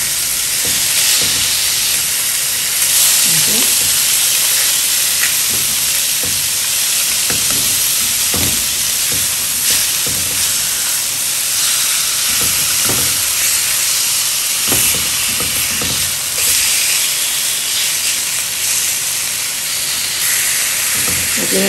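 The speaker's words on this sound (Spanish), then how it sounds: "Pero vamos a ir moviendo hasta que selle nuestro pollo." Chicken sears in a dry pan with no oil, being stirred for pollo sudado. A steady, loud sizzling hiss runs throughout, with recurring scrapes and knocks of stirring and no talk.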